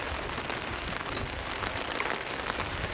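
Steady rain pattering on a tent while camping in cold, stormy weather with strong winds, a dense continuous hiss of drops that stays even and close throughout.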